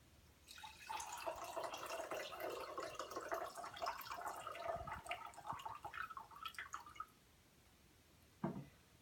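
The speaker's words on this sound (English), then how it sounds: "And you pour your coffee." Brewed French press coffee poured from the press into a ceramic mug, a steady close trickle and splash lasting several seconds, then stopping, followed by a single light knock near the end.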